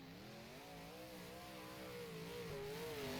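Race car engine in the rFactor racing game on a DirtWorks dirt track, revving hard with a steady, rising mid-pitched drone that holds for a few seconds, loud and continuous with no talk.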